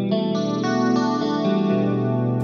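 Clean electric guitar tone through a Line 6 Helix modeler with a Lenny IRT Studio amp model and Helix cabinet simulation, sustained chords changing every half second or so, lush with chorus-like shimmer and no talking.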